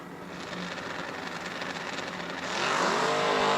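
A 1968 Camaro and a Mustang launch side by side at a drag strip, a steady roar of racing engines that swells louder partway through as the cars pull away.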